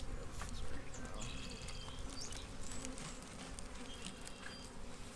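Honey bees buzz continuously around an apiary hive, a dense, close, steady droning with individual bees passing by, and no talk.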